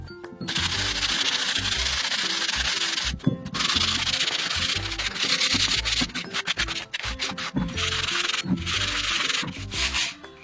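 Wood being sanded by hand along the grain while building a flower press, a close, continuous rough rubbing in rhythmic back-and-forth strokes with brief pauses.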